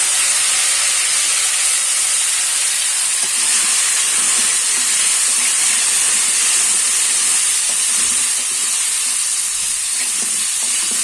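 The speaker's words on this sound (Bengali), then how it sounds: "তেলটা এখন আমার গরম হয়ে গেছে। এখন দিয়ে দেব কচুরমুড়ি।" Taro stolons fry in hot oil left over from frying fish, giving a loud, continuous, even hiss and sizzle throughout with small crackles and no pauses.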